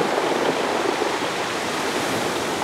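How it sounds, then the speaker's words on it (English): Sea waves wash over stones on a seascape shore in a continuous loud, hissing rush of water with no break and no voices. "We are getting some waves now, actually."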